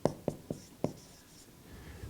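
Pen or chalk writing equations by hand during a mathematics lecture on rational functions: four quiet, sharp tapping strokes in an uneven rhythm, then soft faint scratching, close and without speech.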